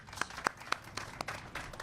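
Scattered, faint hand clapping from an audience at a governor's press briefing on private investment, heard from a distance, a sparse handful of claps over a couple of seconds.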